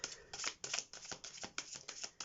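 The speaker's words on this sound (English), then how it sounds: "let's shuffle your cards" Tarot cards are shuffled by hand in a run of quick, crisp riffling and flicking bursts, close and fairly quiet, with no voices.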